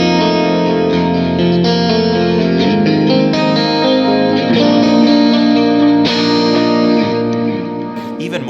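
Electric guitar drenched in reverb and dark delay, set for a dreamy tone, sustaining layered chords and notes with shimmering echo trails, steady and close, fading slightly at the end.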